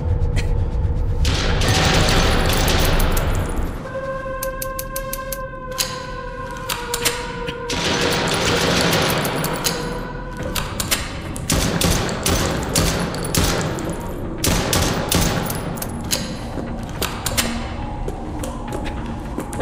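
Gunfire in the Chinese horror shooter Chuxie on its highest difficulty: repeated sharp gunshots, some in quick bursts and others spaced apart, with thudding impacts and tonal game effects between them.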